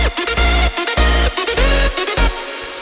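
Hardstyle lead synths and the reverb-filled bass line play together as one loud, dense, continuous mix, driven by a pulsing rhythmic low end.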